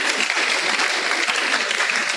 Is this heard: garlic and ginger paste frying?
no